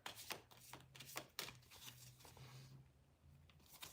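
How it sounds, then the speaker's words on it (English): A deck of cards being shuffled by hand, quick close riffles and flicking snaps in bursts, with no talking. "So we got to get a good shuffle here."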